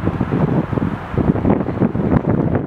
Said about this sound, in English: It might look a nice day, but it is windy.